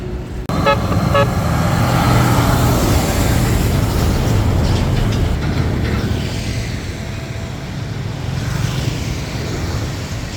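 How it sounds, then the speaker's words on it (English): A heavy car descends a steep mountain pass, its engine and road noise forming a loud, steady rumble throughout, with a brief higher tone near the start. "Finally, the car was safely down the pass."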